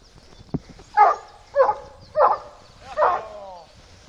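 A dog gives four sharp barks at a steady pace, loud and close, preceded by a brief thump. There is no talking during the barks.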